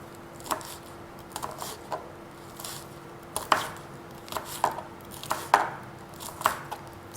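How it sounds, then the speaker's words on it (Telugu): Knife chopping green chillies on a cutting board: a run of sharp, distinct taps at an irregular rhythm, close and fairly clear over a quiet background hum, with no talking. "సో పచ్చిమిర్చీలని చాప్ చేసుకుందాం."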